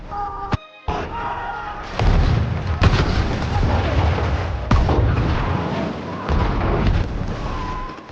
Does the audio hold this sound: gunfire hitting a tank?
yes